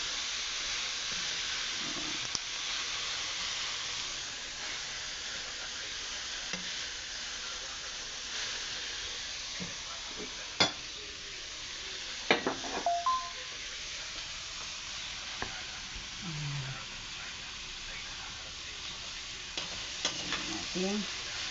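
Food being stirred as it fries in a pan over low heat, a steady close sizzle and hiss with occasional scraping and clacking of the utensil, and no talking.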